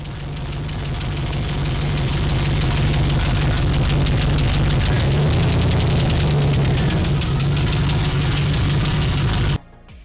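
A damaged, high-mileage 300k-mile junkyard LS V8 idles loudly with a harsh, rapid knocking racket, steady and close for about nine and a half seconds before it cuts out abruptly.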